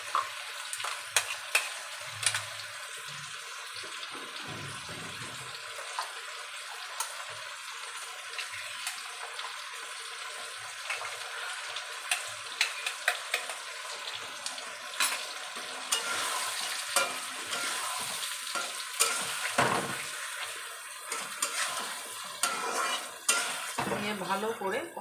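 Spices sizzle and get stir-fried with shrimp for kochu chingri, a spatula scraping and clinking against the pan in quiet bursts over a soft, continuous frying hiss.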